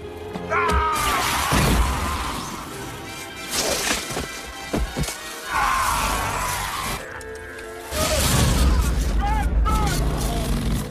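Loud booming blasts and crashing debris from an explosion in an action film, with music and voices mixed in, heavy impacts recurring over several seconds.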